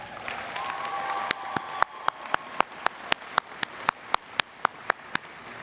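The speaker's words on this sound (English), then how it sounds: "I also want to give a round of applause to everybody who's here in your support today" An audience at a commencement ceremony claps, first as a soft, distant patter, then as sharper, regularly spaced claps over a faint murmur.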